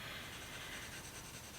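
Prismacolor colored pencil rubbing steadily across paper in soft grayscale shading, a continuous close, faint scratchy hiss with light even pressure and no pauses.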